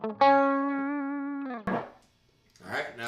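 Clean electric guitar riff played through a Dr. Z amp: a sustained bright chord rings for over a second, then a short picked stab and a final strummed burst, loud and close with no talk.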